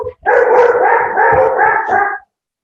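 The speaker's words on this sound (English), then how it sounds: "We have a herd of dogs here." Several dogs from a large group bark in a quick run of loud, close barks that ends abruptly after about two seconds.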